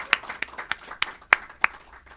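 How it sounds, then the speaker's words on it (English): Scattered, sparse clapping from a small audience at a political candidates' press conference, about six distinct sharp claps spaced irregularly rather than a full ovation. "I think we should all give all the candidates here a round of applause just for running."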